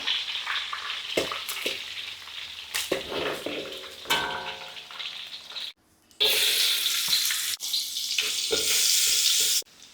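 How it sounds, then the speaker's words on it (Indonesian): Eggs frying in a pan with a steady, close sizzle that rises loudly in the second half, broken by clinks, stirring clatter and a brief running-water sound, with no talking. "Nggak usah goreng terlalu garing tentunya."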